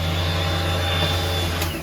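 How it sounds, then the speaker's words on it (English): A wall-mounted hair dryer runs in the bathroom of a Disney Wonder cruise ship verandah stateroom, giving a loud, constant blowing whir with a low motor hum underneath for the whole short stretch. "You do have a hair dryer that's actually attached to the wall."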